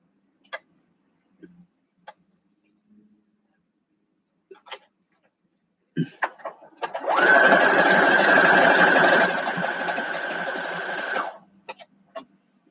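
A home sewing machine stitching a quilt block runs in one steady burst of several seconds, preceded and followed by scattered clicks, taps and handling noises at close range.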